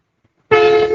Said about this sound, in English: Hey, any truckers out there that can give these kids some honks?